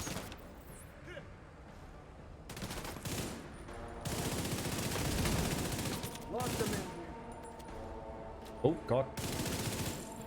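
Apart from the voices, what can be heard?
gunfire downstairs in The Division 2 video game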